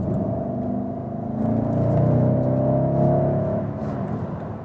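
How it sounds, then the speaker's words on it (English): An eight-cylinder engine in a modern luxury sedan pulling smoothly onto a motorway in normal mode, a steady whirring hum that swells and rises in pitch, then eases off slightly near the end, heard from inside the cabin. "Now you heard the 8-cylinder for the very first time, but such a smooth evolvement of the power we have here"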